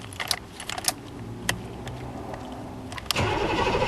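A K5 engine cranks and catches after a starter switch repair, following a few sharp clicks and a jangle of keys; the motor fires near the end and settles into a steady, loud run.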